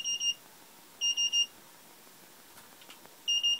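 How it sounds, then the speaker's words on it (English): An Arduino Wall-E robot's electronic proximity alarm beeps in quick clusters of high tones, repeating three times with quiet gaps between bursts. "anything that comes into close proximity, he sounds an alarm."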